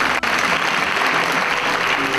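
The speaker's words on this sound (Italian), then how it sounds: "Vorrei accoglierla con un calorosissimo applauso" A theatre audience at a live magic show in Sassari's municipal theatre claps in a dense, sustained burst of applause, loud and close throughout.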